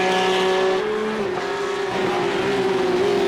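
A Porsche Cup race car slides sideways on track, tires squealing hard under a steady, loud engine drone. The pitch wavers as the car loses grip, close and continuous, with no talk.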